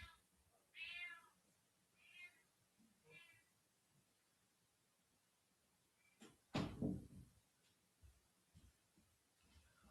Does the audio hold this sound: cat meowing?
yes